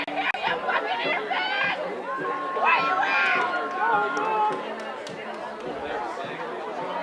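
A rowdy crowd at a college softball game, chattering, calling out and laughing at moderate distance, with voices overlapping throughout.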